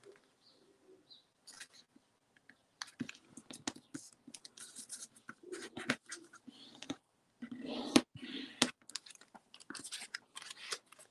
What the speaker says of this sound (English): So a bit more folding.